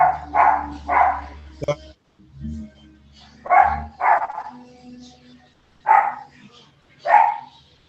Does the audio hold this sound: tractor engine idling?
no